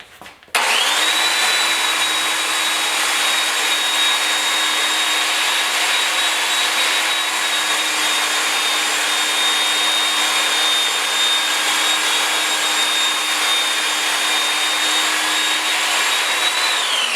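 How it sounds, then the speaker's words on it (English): A belt sander works a bathroom countertop, starting up abruptly and then running as a loud, steady high whine with a constant abrasive rush, close and uninterrupted until it winds down at the end. "with this little bit, best tool is the belt sander."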